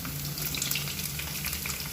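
Drumsticks and potatoes frying in a pan for a Tamil poriyal, a steady close sizzle with crackle throughout and no talking.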